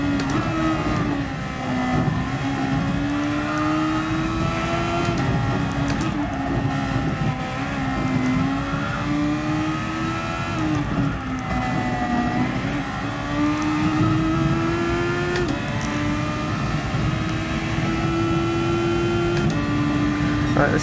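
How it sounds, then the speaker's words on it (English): Open-wheel Formula 2 car engine in a VR racing game, a steady loud whine rising and falling through gear changes as the car runs flat out through corners, with speech faintly present. "weird going from a GT3 car to a Formula 2 car"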